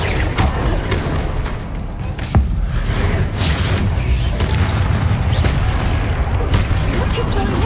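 A Bombarda explosion spell goes off in Hogwarts Legacy, a loud dense rumble with a sharp blast near the start, continuing amid crashing and creaking game sounds.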